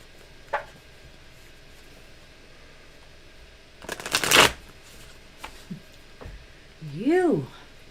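English Magic Tarot cards are shuffled in a few crisp riffling bursts, with light handling taps between them and a short rising vocal sound at the end.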